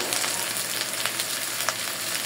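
A spice paste of ground cumin, coriander, cinnamon, cardamom and turmeric fries in a pan, giving a steady, close sizzle with soft crackles and no voices.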